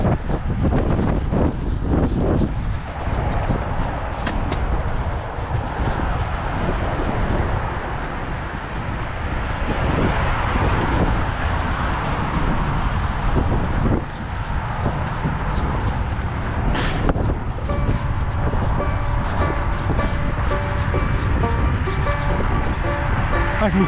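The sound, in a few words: gusting wind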